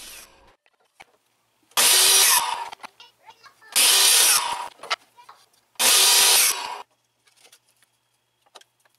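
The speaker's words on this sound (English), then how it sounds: "I took all the pieces back over to the miter saw for the 45 degree cuts from each" Miter saw cutting 45-degree angles in wood pieces for gallery stretcher bars, three separate loud whining cuts of about a second each, with spin-down and handling noises between them.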